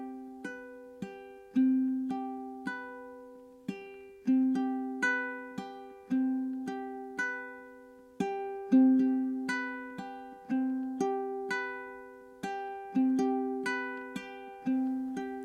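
Plucked ukulele notes ring out in a steady fingerpicked pattern, bright and close, with slightly uneven accents and sustained tones between picks.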